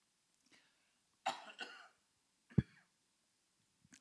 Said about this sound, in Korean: 그래서 좀 요즘 기침을 좀 합니다